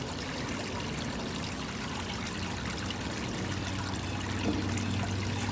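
Water runs steadily from a hose or pipe into an outdoor tank for a Fly River turtle, a soft, constant trickling pour that stays fairly quiet and even throughout, with no voices.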